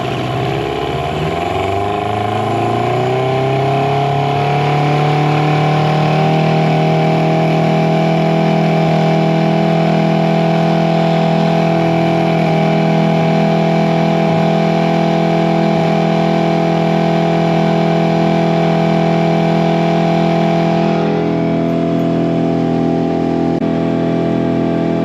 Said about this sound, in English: let's see what this motor can do on the top end speed